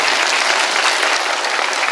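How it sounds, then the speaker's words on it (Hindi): Loud, dense audience applause at a Buddhist community gathering, a steady wash of clapping that fills the whole moment with no voices over it. "एक बार जोरदार ताली बजाए"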